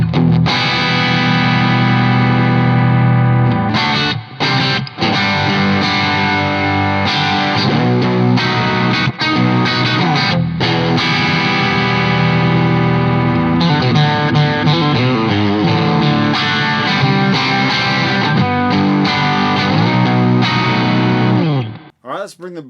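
A Reverend Gill Parris signature electric guitar played on its bridge pickup through an overdriven amp turned all the way up, riffing continuously with a gritty, saturated tone for about twenty seconds before cutting off.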